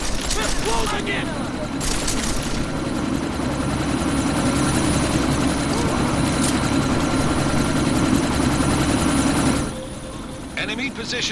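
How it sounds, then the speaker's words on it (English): A helicopter's engine and rotors roar steadily and loudly as it prepares to take off amid gunfire in the video game Deus Ex: Mankind Divided, cutting off abruptly near the end. "That chopper's about to take off!"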